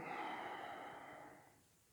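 A single slow, soft breath from a person holding a standing yoga warrior pose, heard close and quiet, fading out over about two seconds.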